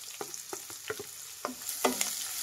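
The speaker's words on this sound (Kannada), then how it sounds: "ಈರುಳ್ಳಿನ ಚೆನ್ನಾಗಿ ಫ್ರೈ ಮಾಡಬೇಕು ಎಣ್ಣೆಯಲ್ಲಿ." Finely chopped onions frying in oil with mustard seeds and curry leaves, soft spoon taps and stirring scrapes over a quiet, constant sizzle, briefly swelling near the end.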